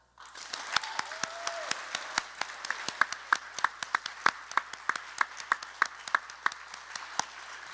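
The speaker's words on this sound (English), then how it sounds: "Can I please ask for another round of applause for all of them?" Sustained applause from an audience at a school alumni awards ceremony, many sharp claps in an irregular, steady patter, fairly close and unaccompanied by talk.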